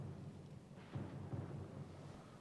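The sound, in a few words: loud storm with thunder in the video game Pillars of Eternity II: Deadfire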